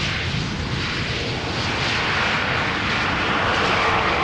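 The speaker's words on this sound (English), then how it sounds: "Pegasus, flight 1251 A321neo, arriving from Istanbul." A Pegasus Airbus A321neo jet arriving at Schiphol Airport from Istanbul, a loud continuous engine roar that swells slightly as it passes, with no talk.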